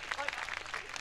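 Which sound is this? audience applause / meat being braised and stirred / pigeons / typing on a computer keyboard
audience applause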